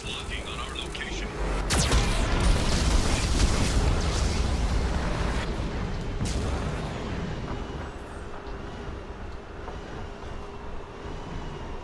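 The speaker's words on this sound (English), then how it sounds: "Warning, Geth cannon is locking on our location." Geth cannon fire in the video game Mass Effect 2, a sharp blast followed by a sustained, loud, rumbling roar of explosions that slowly fades, with a warning voice speaking over it.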